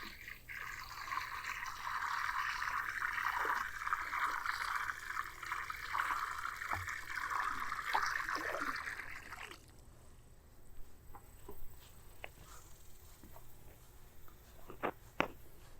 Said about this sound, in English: I'm just going to go ahead and pour this around the pool